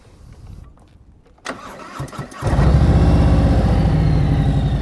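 Motorcycle engine during an advanced slow-speed riding practice session in Georgia: quiet idle, a few sharp revs, then a loud, steady low engine drone as the bike pulls away slowly, close by, with no talk.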